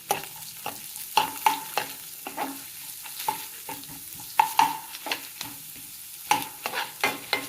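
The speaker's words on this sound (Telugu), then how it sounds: "ఇప్పుడు ఈ ఉల్లిపాయ, పచ్చిమిరపకాయ ముక్కలు, కరివేపాకు వేసేస్తాను. నేను ఒకసారి కలుపుకుందాం." Chopped onion, green chilli and curry leaves frying in oil while being stirred for a ridge gourd milk curry, with a steady soft sizzle and repeated rhythmic spoon scrapes and clinks against the pan.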